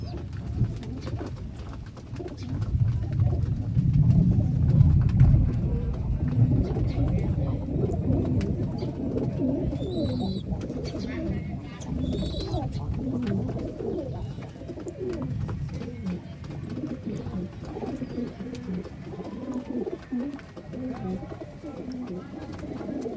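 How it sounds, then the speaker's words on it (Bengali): Giribaj pigeons at a pigeon farm in Sonamasjid, Rajshahi, some of them wet from rain, coo in a steady, overlapping chorus close by, with a low murmur running through it. "এখন আমার সকল কবুতর খাবার খাইতে আসে নাই আমার কিছু কবুতর ভিজে গেছে"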